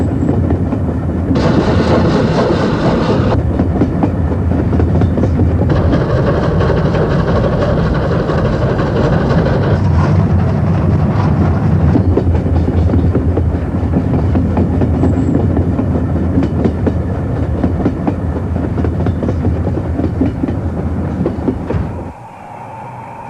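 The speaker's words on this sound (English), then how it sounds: "The diesel was sent well ahead for the now memorable photo run-bys." A diesel locomotive hauls a train along rails through remote salt-lake desert country in 1970. Its loud, steady engine drone and wheel clatter run on for about twenty seconds, then cut off suddenly near the end.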